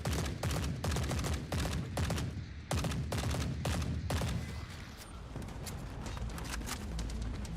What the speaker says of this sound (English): why were they shooting at me from so far away?